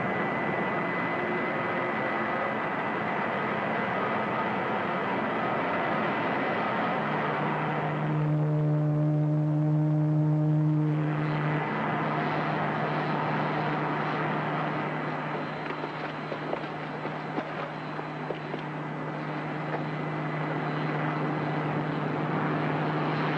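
A spaceship comes in to land with a steady droning roar, joined by a louder, tonal engine whine swelling for a few seconds in the middle before settling back to the continuous hum.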